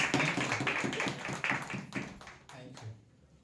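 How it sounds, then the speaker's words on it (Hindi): A church congregation claps for God during Sunday worship, a dense burst of many hands with sharp repeated transients that fades out toward the end. "क्यों ना हम परमेश्वर के लिए तालियां बजाते हैं"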